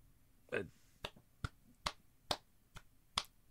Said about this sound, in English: It's just me clapping.